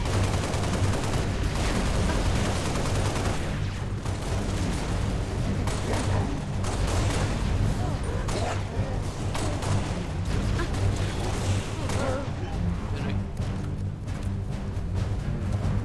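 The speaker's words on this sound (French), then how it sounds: "Je sens l'artillerie." Artillery fire and heavy gunfire in the Halo video game, a dense continuous barrage of booms and shots with rumbling low end, loud and unbroken throughout.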